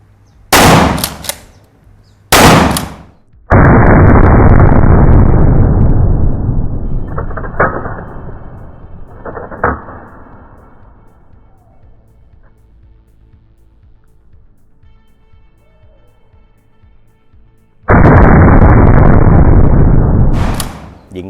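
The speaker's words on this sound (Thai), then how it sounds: "พร้อมแล้วเริ่มยิง" Two sharp, loud gunshots, then long roaring blasts that fade out slowly, with another loud burst near the end; heavy booming reports at an outdoor shooting range in Rayong, Thailand.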